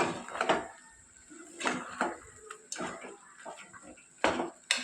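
Spoon scraping and clanking in a pan while mutton fry is stirred with masala powder, irregular close metallic knocks and scrapes with quiet gaps between.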